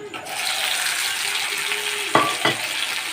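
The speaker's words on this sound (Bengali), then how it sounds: "এবার দিয়ে দেবো এই যে বেটে রাখা ঘ্যাটকুল পাতাটা।" Ground kharkol leaf paste frying in hot tempering oil, a dense continuous sizzle with two sharp clatters of a utensil near the end, close up and without speech.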